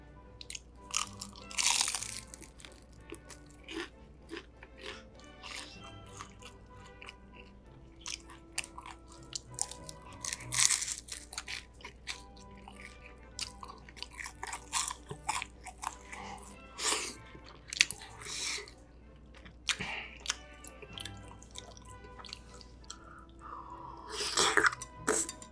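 Fried dumplings (yaki mandu) being bitten and chewed up close, with repeated sharp crunches and wet chewing in irregular bursts and quiet gaps between them.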